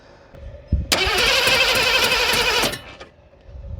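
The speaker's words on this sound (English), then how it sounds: "So I got the engine to crank" A 1986 Mercury Grand Marquis Colony Park engine cranks over with a fast, steady churning for about two seconds, then stops without catching, with no injector signal; close and fairly loud.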